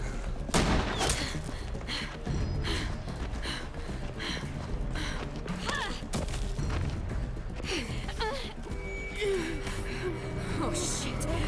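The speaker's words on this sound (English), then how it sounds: "All those gunshots." Rapid bursts of gunfire in The Walking Dead: The Final Season video game crackle through a dense, noisy mix, with a voice speaking over the shooting.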